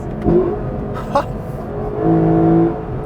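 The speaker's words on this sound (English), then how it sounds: "let me just put the car into Sports Plus mode and let you enjoy the sound" A 2021 Lexus LC500 Convertible engine in Sports Plus mode revs in short bursts, rising and falling pitch, then a sustained higher rev near the end, heard from inside the car.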